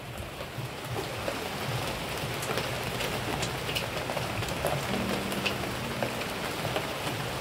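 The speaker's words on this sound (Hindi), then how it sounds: "आवाज सुनो, आवाज बारिश का, देखो ऊपर ऊपर से इधर थर थर थर थर थर थर गिर रहा है" Steady heavy rain falls outdoors in Mumbai during the Ganpati festival season, a continuous dense patter of drops on surfaces at close range with no talking.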